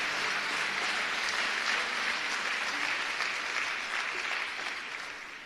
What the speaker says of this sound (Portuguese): Se for para Ele, você pode aplaudir mais forte.